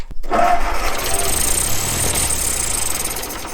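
A 1944 Ford tractor engine cranks and catches, settling into a loud, rough, steady running rumble close by.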